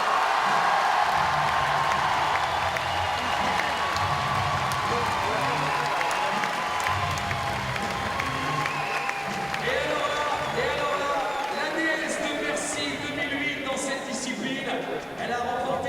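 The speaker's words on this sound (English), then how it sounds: "S'il vous plaît, applaudissements pour mademoiselle Helene Janicot" Audience applause and cheering at the women's lead and speed finals of the IFSC Climbing World Championships in Paris, honouring French climber Helene Janicot; a steady, dense crowd roar with an announcer's voice running over it.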